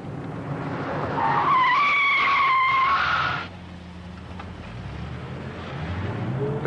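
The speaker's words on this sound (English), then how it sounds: "now let's try the BMW's brakes." A 1980 BMW with German four-wheel disc brakes stops hard, tyres screeching loudly for about two seconds before the squeal cuts off abruptly and the engine rumble settles low and steady.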